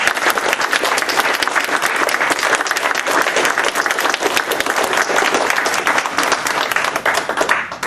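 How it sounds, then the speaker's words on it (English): Sustained, dense applause from a seated audience at a book talk on an autobiography, steady and loud from start to finish with no speech over it. "ladies and gentlemen, let's give them a round of applause."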